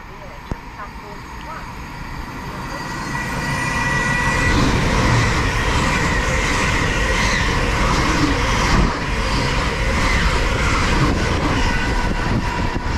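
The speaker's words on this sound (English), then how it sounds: "passing through now, we've got an LNER service from London King's Cross to Leeds" LNER service from London King's Cross to Leeds passing through a South Yorkshire station, a broad rumbling roar that builds over the first few seconds and holds steady and loud throughout.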